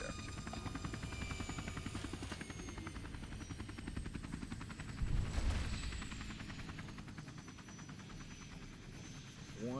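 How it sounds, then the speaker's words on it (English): An osprey-like helicopter in the game Fallout New Vegas thrums with a steady rotor chop and whine, a bit louder midway, continuous and at moderate distance. "There goes the president teleporting out of his little osprey looking thing."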